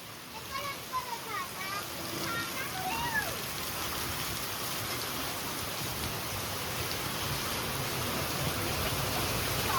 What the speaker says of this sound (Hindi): आप देख सकते हैं बारिश स्टार्ट हो गई है